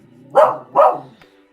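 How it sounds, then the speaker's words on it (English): Two loud, close dog barks come in quick succession, followed by a faint click and quiet. "I don't know what she's barking at this time"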